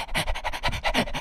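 A human voice imitates a panting dog with quick, breathy huffs in a steady rhythm of about six pants, close and loud, with no other sound.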